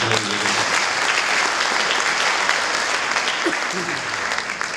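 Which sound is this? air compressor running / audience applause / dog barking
audience applause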